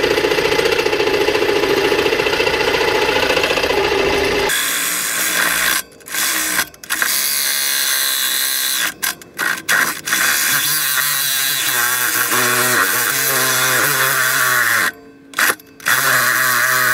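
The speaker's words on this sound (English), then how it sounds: "I'm trying to saw it off with the sawzall here." A Sawzall reciprocating saw cuts through a bolt on a semi trailer, loud, harsh and buzzing, running steadily with a few brief stops and restarts.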